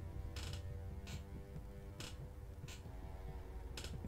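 A chair creaks in faint, irregular squeaks and groans, about six short creaks spread over a low background hum, with no talking.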